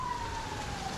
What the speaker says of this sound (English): Sorry for the sirens that are going off in the back